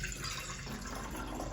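Acid poured carefully into a lab beaker, a continuous liquid trickle and fill sound, near and steady, with no voices.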